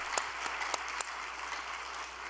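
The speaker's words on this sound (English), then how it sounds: "Let us offer a big round of applause for those who are protecting on behalf of every member." A gathered congregation applauds the people protecting True Mother, a soft, broad wash of many hands with a few crisp claps early on, heard at a distance.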